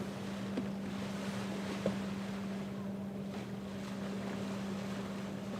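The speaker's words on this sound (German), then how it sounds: "Nee, es sind nur Wellen." Sea waves wash steadily near a cruise ship, the AIDAnova, as it sails away from a foggy harbour, a continuous low rushing wash with wind buffeting the microphone and a steady engine hum beneath, no distinct breaks.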